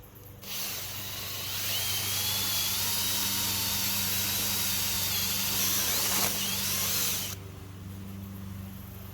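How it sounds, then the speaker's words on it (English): A power drill fitted with a spade bit bores a fence post hole into hard clay soil, giving a steady, loud, high-pitched whine that holds for about seven seconds before cutting off. "So if you ever need to drill holes and you got some hard soil, spade bit works great."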